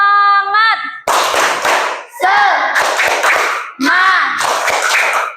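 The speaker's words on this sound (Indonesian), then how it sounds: "Coba sekarang biar lebih semangat. Tepuk semangat." A class of Indonesian schoolchildren performs a rhythmic spirit clap. Chanted voices alternate with loud, crisp bursts of clapping in a lively call-and-clap pattern.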